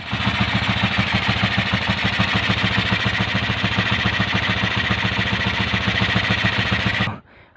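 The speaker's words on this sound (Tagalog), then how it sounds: "parang ang ingay pa rin tuloy ng tunog ng makina" A pushrod motorcycle engine with a modified open carburetor idles loudly and steadily, its rapid low pulsing thump continuous and close until it cuts off abruptly near the end.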